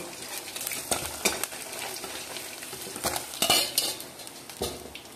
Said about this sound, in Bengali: এইভাবে আমি বাকি মাছগুলো ভেজে নেব